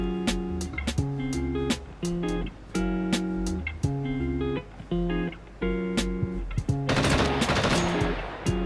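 Rapid bursts of automatic gunfire from the survival video game SCUM, sharp repeated shots in uneven rhythmic volleys, loud and close, with a noisier blast-like burst near the end.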